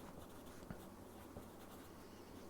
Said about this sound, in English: let me write a note here